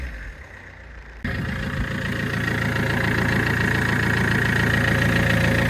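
An Alfa Romeo engine idles steadily after a slow cold start, catching at about one second and settling into a loud, even idle with a constant low hum and no talking.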